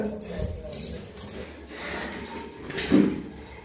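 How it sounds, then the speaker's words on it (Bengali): Rice is washed under a running tap, water splashing and swishing into a sink at close range, with a louder slosh near the end. "তো এখানে হচ্ছে চালগুলা মা বললো যে ধুয়ে দিতে, ভাত বসাবে।"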